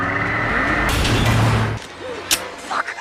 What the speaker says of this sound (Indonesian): terlihat mobil yang dikendarai Martina melaju kencang ke